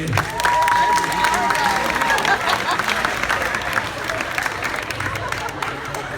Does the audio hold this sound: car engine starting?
no